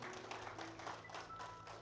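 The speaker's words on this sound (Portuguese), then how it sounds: "Dá um aplauso para Jesus aí no seu lugar." Church congregation applauding, a dense, steady wash of clapping from many hands in a worship service, fairly distant and even throughout with a faint hum beneath.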